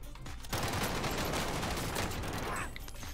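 Dense automatic gunfire in the video game Warzone, a loud, sustained rapid burst of shots lasting about two seconds, close and continuous before stopping abruptly.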